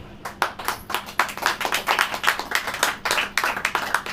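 A church congregation claps steadily for several seconds during a sermon, the sharp hand claps dense and fairly loud, with no voices over them.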